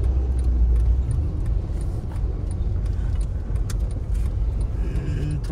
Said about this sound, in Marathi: गाड्या हळूहळू जात आहेत